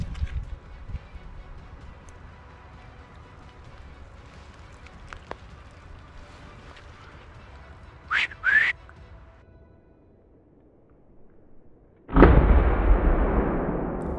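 A single sharp rifle shot rings out during a driven roe deer hunt in the woods, loud and sudden after a quiet stretch with faint whistles, followed by a brief decaying echo.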